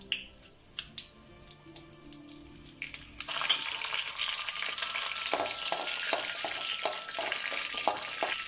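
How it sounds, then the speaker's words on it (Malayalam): Mustard seeds, dried chillies and curry leaves hit hot oil: a few sharp pops and spits, then a loud, dense sizzle takes over and crackles steadily up close. "കറിവേപ്പില ഒന്ന് ഫ്രൈ ആയി കഴിഞ്ഞാൽ"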